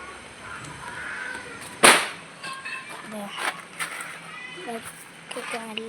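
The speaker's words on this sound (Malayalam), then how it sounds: "ഇവിടെ കുറച്ച് ആൾക്കാർ പടക്കം പൊട്ടിയിട്ടുണ്ട്." Firecrackers burst outdoors: one sharp, loud crack stands out partway through, with a few fainter pops around it, while people talk nearby.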